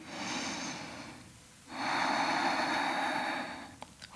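Deep, slow breaths taken during a gentle vinyasa yoga session, two long airy exhalations close to the mic with a short pause between them and no talking.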